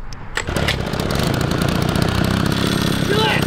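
A 2HP two-stroke washing machine engine fitted to a mini bike starts with a pop and settles into a steady, buzzing, slightly rattly idle close by, with people talking over it.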